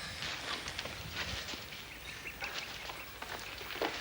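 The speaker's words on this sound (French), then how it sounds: "J'ai entendu votre cheval" Clopping hoofbeats of a horse, uneven and moderately close, with scattered knocks and outdoor noise, no voices.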